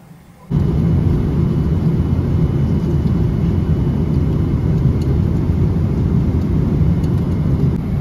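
Steady, loud airplane cabin drone during cruise at high altitude, a constant low roar of engine and airflow that starts abruptly and holds unchanged throughout.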